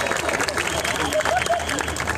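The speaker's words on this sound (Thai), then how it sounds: "ขอเสียงปรบมือให้กับประชาชน" Steady applause and clapping from a large outdoor crowd at a petition rally at parliament, dense and continuous for a couple of seconds, with a few voices briefly audible underneath.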